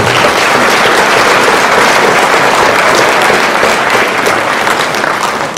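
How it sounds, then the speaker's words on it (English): A crowd at a fall sports awards ceremony applauds athletes and coaches, a loud, dense, steady round of clapping that holds strong for the whole stretch and only eases slightly near the end. "Let's give one more round of applause to all those athletes and coaches."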